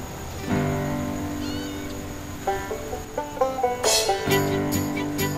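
A kitten meows repeatedly, a series of thin, high cries, some drawn out and some short, fairly close, with light background noise.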